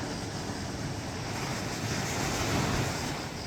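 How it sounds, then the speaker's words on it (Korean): Ocean waves wash onto Maengbang Beach on Korea's east coast, a continuous broad rushing roar that swells slightly near the end, with some wind noise and no voices. "음 파도 소리 좋네."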